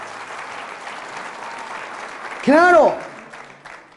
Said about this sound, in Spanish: Fuertes aplausos a Jesús por su amor y su misericordia.